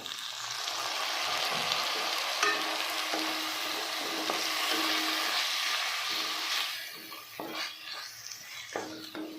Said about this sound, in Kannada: ಹಾಕ್ಕೊಂಡು ಇದರಲ್ಲೇ ಒಂದು 2 ನಿಮಿಷ ಫ್ರೈ ಮಾಡ್ಕೋಬೇಕು